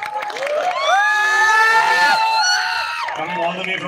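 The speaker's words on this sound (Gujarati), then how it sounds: "તાળીઓ કૌશલ માટે." A crowd at an amphitheater cheers and whoops loudly for a performer, many excited voices rising together in a sustained roar close by.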